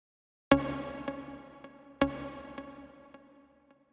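A synth block in a trap production: two loud, bright struck chords land about a second and a half apart, each ringing out into a decaying, shimmering tail with faint repeating echoes.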